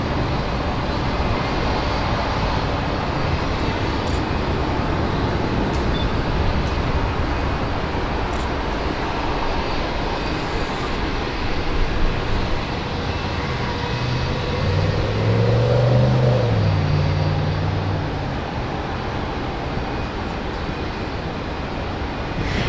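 An Air Niugini Boeing 767 airliner at Brisbane Airport gives a steady, broad engine roar that holds throughout with a slight swell partway through, heard from a distance.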